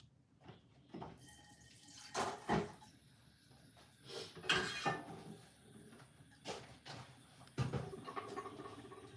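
In a home kitchen, a tap runs into a pot in short bursts amid clattering and cupboard or drawer knocks. The sounds are faint and intermittent, with no talking.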